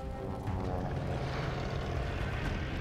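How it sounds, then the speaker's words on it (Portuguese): Propeller airplane engine droning overhead in the Call of Duty: Vanguard game, a steady mid-level rumble that holds throughout with no voices. "Isso é um avião."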